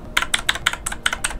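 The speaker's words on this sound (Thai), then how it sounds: "นี่คือเสียงของบลูมันจะต๊อบแป๊บก๊อบแก๊บก๊อบแก๊บก๊อบแก๊บต๊อบแป๊บ" A Nubwo X29 mechanical keyboard with blue switches is typed on, seven sharp, evenly spaced clicks loud and close, alone.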